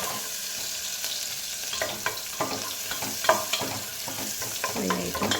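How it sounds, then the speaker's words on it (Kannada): Chopped onions frying and being stirred in a pan for a vegetable kurma, a steady close sizzle with scraping stir strokes throughout, no voices. "ಈರುಳ್ಳಿ ಫ್ರೈ ಆಯಿತು."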